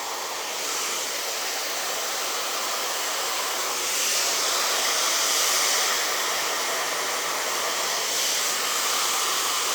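Steady broadband whoosh of a hair dryer fitted with a diffuser, drying curly hair, running continuously and close with a slight swell midway, no talk over it.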